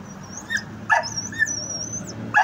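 A dog gives several short, high yips and barks, nearby and irregular, over a faint background hum.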